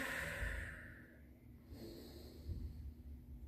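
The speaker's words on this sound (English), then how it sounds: "Some deep inhales and exhales here." Slow, deep breathing during a yoga rest lying face down, a long soft inhale and exhale close to the mic, quiet and without talk.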